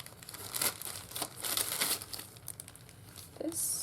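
Plastic packaging crinkles as it is opened, with irregular crackling bursts of rustling close by over about four seconds, ending in a brighter sharp crinkle, with no talking over it.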